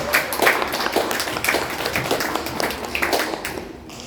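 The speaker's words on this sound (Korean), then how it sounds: "박수 보내주시기 바랍니다" A church congregation applauds during announcements at a Sunday service, the Seventh Sunday after Epiphany, at a Korean church in Vienna. Close, lively clapping rolls on steadily for a few seconds before tapering off.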